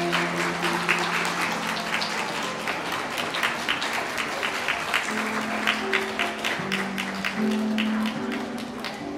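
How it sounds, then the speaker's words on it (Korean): Wedding guests at a hotel ceremony clap steadily for several seconds, a dense crowd patter over sustained background music tones, with no talking. "그럼 박수 많이 부탁드립니다."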